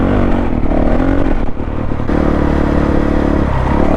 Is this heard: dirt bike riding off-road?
yes